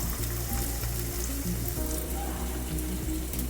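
Onions, garlic and green chillies fry in about a tablespoon of oil, producing a constant, dense sizzle with a low steady hum beneath it.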